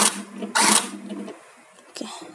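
A cheque writer machine prints onto a cheque in short mechanical bursts of clattering and whirring, one strong burst followed by quieter clicks and a final clack, with someone speaking nearby.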